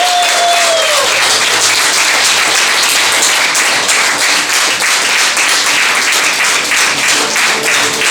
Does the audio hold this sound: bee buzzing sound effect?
no